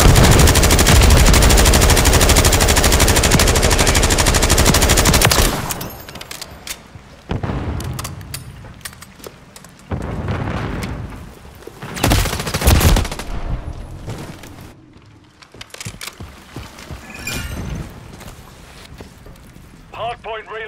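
Sustained automatic gunfire and explosions from a Call of Duty: Modern Warfare III multiplayer Hardpoint match, loud and dense at first, then breaking into scattered bursts and blasts under game announcer voice lines.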